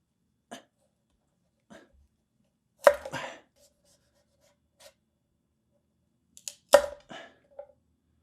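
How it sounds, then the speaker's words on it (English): A Japanese kitchen knife cuts through a squash, making a few sparse, sharp crunching chops. Two stand out as louder cracks, with fainter cuts and scrapes scattered between them over quiet gaps. "what we're going to do with this squash is we're going to cut off the big tubular part at the top here"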